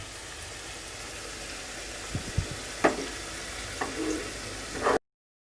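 Cooked chicken added to sautéed masala for honey chicken, a soft steady frying hiss with a few clunks and scrapes of stirring near the end before it cuts off.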